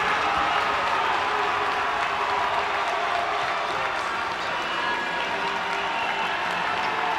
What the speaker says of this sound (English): The crowd is begging, pleading for an HPU win here.